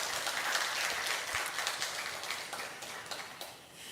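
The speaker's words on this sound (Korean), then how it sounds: "우리 수고 많이 하신다고 박수 한번 뜨겁게 부탁드리겠습니다." A church congregation at a Sunday afternoon service claps together in a warm, continuous round of applause, fairly soft and diffuse, tapering slightly toward the end.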